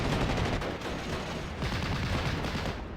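Rifle and machine-gun fire during a World War II battle in the strategy game Steel Division: 44, dense overlapping rattling shots and distant booms forming a continuous roar of combat.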